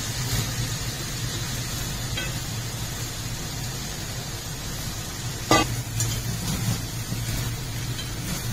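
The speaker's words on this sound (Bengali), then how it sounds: "এবার এর মধ্যে আমি একে একে সব সবজি যে কেটে রেখেছিলাম সেইগুলোকে দিয়ে দেব।" Chopped vegetables for a navratan dalma go into a hot pan, where the water has already cooked off, and get stirred. A steady, moderate sizzle carries throughout, with a sharp scrape or clatter midway and no talking.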